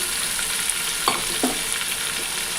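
Green chili, coriander and curry leaf paste frying in a pan while cooking a spicy fish curry, a steady close sizzle with a couple of soft stirring scrapes.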